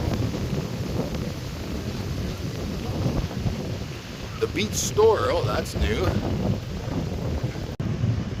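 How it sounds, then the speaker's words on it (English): Wind rushes across the microphone at Wasaga Beach on the Ontario lakeshore, a constant broadband roar that stays under someone talking briefly. "Oh, it's a little windy at the beach"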